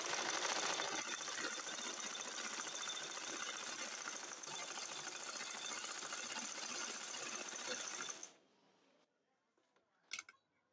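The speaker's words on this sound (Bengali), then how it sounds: "এই সেট দিয়ে আমি আরেকটা সেলাই দিয়ে দিব।" A sewing machine runs close and loud, its fast steady stitching whir going for about eight seconds on a two-colour Naira dress, then it stops, leaving quiet handling noises and a brief click.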